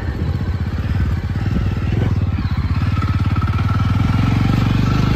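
A motorcycle engine on a dirt farm track chugs steadily and close, a loud rhythmic thumping throb that holds throughout without pause.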